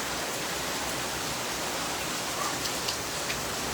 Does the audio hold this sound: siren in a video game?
no